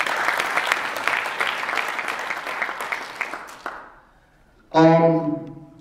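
Conference audience applauding a guest introduced during a keynote, steady crowd clapping that fades out, followed by a brief burst of other sound after a quiet gap.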